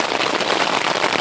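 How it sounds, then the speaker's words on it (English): Steady rain falls outdoors during a thunderstorm, a dense, even hiss of drops with no gaps across the short moment. "It's raining, it's thundering"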